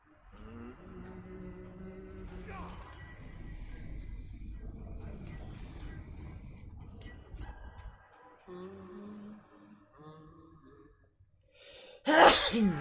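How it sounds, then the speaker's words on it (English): Quiet background noise and murmuring voices, then one sudden, loud sneeze bursts out near the end. "gonna sneeze."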